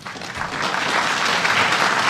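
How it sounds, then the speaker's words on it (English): A crowd claps steadily, the broadband patter of applause rising and holding strong for a couple of seconds with no voices over it. "the audience burst into applause"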